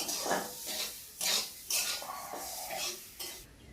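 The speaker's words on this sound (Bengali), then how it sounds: "আমি কিন্তু এখন এক বাটি নারকেল চিনি দিয়ে দেবো, একটু নেড়ে ফেলে দেবো।" Grated coconut and sugar are stirred in a metal pan for kulli pitha, village-style, with a spoon scraping and clanking against the pan in repeated close strokes, loud and without talk.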